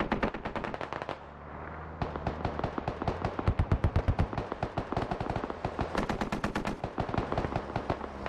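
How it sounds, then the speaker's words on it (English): Heavy .50 cal machine gun fire in the military shooter game Squad, long rhythmic bursts of rapid loud shots with brief pauses, close and dominant throughout. "it's under heavy fire, heavy suppression from that 50 cal"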